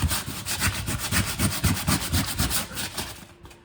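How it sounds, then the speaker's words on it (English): Aluminum being sanded with finer 180-grit sandpaper while building a GPU mining test bench, a fast, rhythmic scraping of back-and-forth strokes, close and loud, with no voices, trailing off at the end. "Different sandpaper, a little finer."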